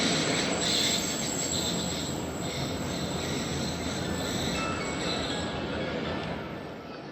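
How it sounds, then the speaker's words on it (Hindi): The Khyber Mail train departs Shujabad station, rumbling steadily along the tracks with a faint high wheel squeal, loud and close, fading slightly at the end. "ट्रेन रवाना हो चुकी है शुजाबाद रेलवे स्टेशन से"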